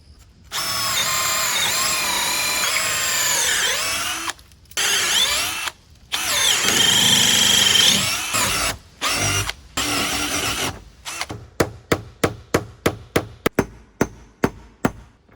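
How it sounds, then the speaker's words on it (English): A power drill bores a hole through wooden 2x6 boards in bursts of loud whirring with short pauses between them, ending in a quick series of sharp, evenly spaced clicks or taps. "So we'll drill a hole through."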